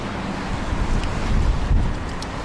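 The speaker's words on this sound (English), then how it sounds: "Oh my god, it's so windy." Strong outdoor wind buffets the microphone in a dense, low rumbling roar that swells and gusts over a couple of seconds, with no voices.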